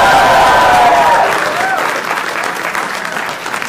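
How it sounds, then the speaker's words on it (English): A large lecture-hall audience at Harvard lets out a loud cheer and applause on cue, a strong roar with a few whistles that gradually settles into softer clapping. "I'm going to hear a really loud cheer."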